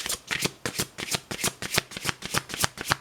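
A deck of oracle cards shuffled close up in about a dozen quick, evenly spaced riffling bursts, steady and rhythmic, with no voice over it.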